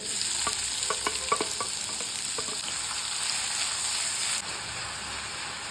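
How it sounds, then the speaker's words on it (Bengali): Finely chopped onions going into hot oil with spices for a prawn dish, a steady loud sizzle with a few stirring scrapes early on, the frying hiss continuing alone and dropping slightly near the end. "পেঁয়াজ কুচিটাকে দিয়ে দেবো"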